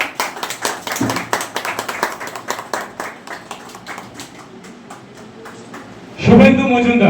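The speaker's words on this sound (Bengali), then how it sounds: "এটা জোরে হাততালি দিবেন" An audience claps at an anniversary ceremony, a run of close, loud individual hand claps that gradually fades before a voice speaks over a microphone.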